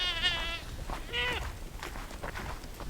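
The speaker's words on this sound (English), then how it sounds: "I heard the goats outside" Baby goats bleat outdoors on a cloudy day, two clear wavering cries close by, followed by softer rustling and faint background noise.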